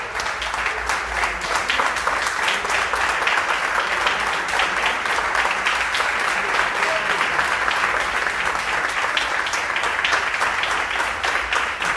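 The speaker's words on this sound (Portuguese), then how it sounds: "Em pé, vamos aplaudir a palavra do nosso Deus." A church congregation on its feet claps in a steady, dense wash of applause that holds at an even level throughout, no voices standing out.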